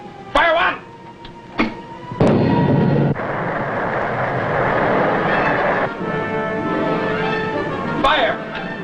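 A World War II submarine, the USS Thresher (SS-200), fires a torpedo in a naval TV drama: sharp bursts, then a heavy rushing blast and a long hissing roar, with brief voices around it.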